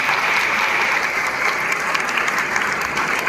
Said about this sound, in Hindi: एक बार उनके लिए जरूर तालियां बजा दीजिएगा।